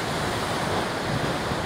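Ocean surf washes up on lava rock at sunset on the north shore of Oahu at Haleiwa, a steady loud roar of breaking water with some wind noise and no talking.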